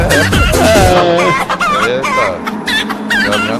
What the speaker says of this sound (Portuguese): As galinhas tudo cantam.